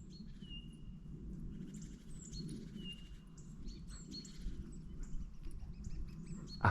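Birds chatter and tweet continuously at a distance, with thin whistles and quick chirps layered over a steady low rumble of background noise.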